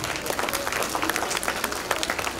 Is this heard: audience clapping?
yes